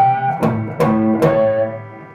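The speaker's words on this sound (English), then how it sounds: "Notice how I had to back off a little bit to find the harmonic." Distorted electric guitar sounds a pinch harmonic, three sharp picked attacks in quick succession, each ringing into a sustained, buzzy overtone-rich tone that slowly decays, loud and up close with no talk.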